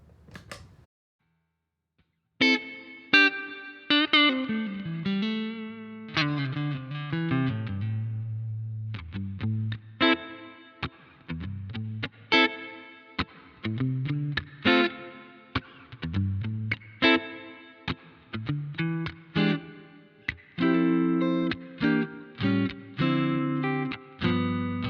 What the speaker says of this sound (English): Okay, so the first reverb type is room. This is a medium room setting with a pretty flat EQ, and I've got a little bit of a high cut on there